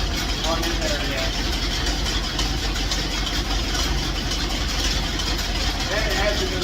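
A small engine runs cold with its choke wide open, a steady, rough mid-pitched drone that holds near and loud throughout with no pauses.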